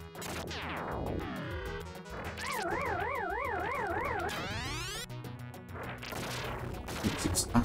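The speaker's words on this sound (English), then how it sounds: "The UFO with a big UFO sound." Arcade sounds from Asteroids under emulation, with a wavering electronic UFO tone rising and falling steadily alongside laser zaps, sweeping tones and explosion crashes, loud and continuous throughout.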